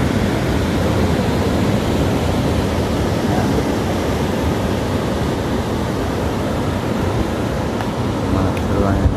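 A constant, broad rush of surf fills the scene, steady and loud with no clear breaks, like waves washing onto the beach nearby at Pelabuhan Ratu.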